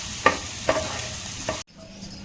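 A little oil sizzles softly in a pan for tempering, with a few sharp clinks of a utensil against metal, then the sound cuts off abruptly.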